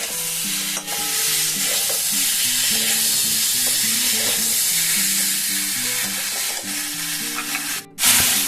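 Tomato, poppy seed and cauliflower curry being sautéd with salt in a pan, a steady loud sizzle with stirring scrapes running throughout, with music-like tonal sounds underneath and a brief clatter near the end.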